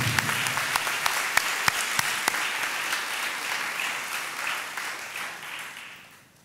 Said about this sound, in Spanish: Vamos a echar un aplauso